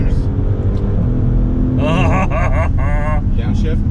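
A Maserati Levante Trofeo SUV's engine blips and revs in rising, whining bursts as it downshifts, loud and close, with voices talking over it.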